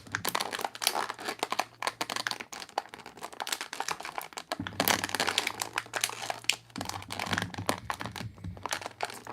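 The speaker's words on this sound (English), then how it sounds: "I'll be cutting through it with those scissors" Plastic packaging on an action figure is snipped with scissors and pulled away, giving dense, close crinkling and crackling with irregular sharp snaps and rustles that continue throughout, with brief lulls and no talking.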